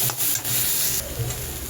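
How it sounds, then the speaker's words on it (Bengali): Spices with turmeric being stirred and lightly fried in a pan for home-style masoor dal, a soft continuous sizzle with scraping stirring strokes, close and alone. "এইবার সবগুলোকে একসাথে আবার একটু ভাজা ভাজা করে নেব, বেশি না, হালকা একটু নেড়ে চেড়ে মিশিয়ে নেব।"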